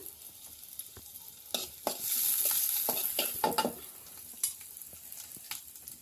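Onion and green chilies frying in cooking oil for a North Karnataka village tempering, a quiet close sizzle with stirring scrapes that swells briefly in the middle.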